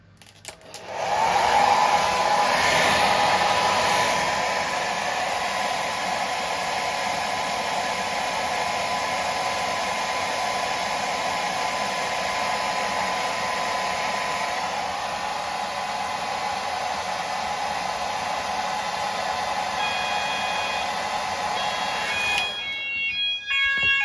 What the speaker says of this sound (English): now I'm going to heat it up with the hairdryer